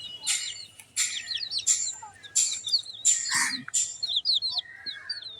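Sick chickens and their chicks give a run of high, wavering peeps and chirps in bursts close to the listener, with a brief lower cluck partway through and no talking.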